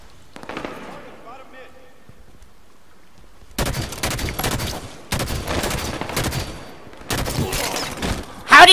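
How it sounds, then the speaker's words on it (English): Battle rifle fire in a Halo 5 Slayer match comes as three loud, dense runs of rapid shots separated by brief gaps, following a quieter stretch with a voice talking. "This time it's regular Slayer with the garbage battle rifle."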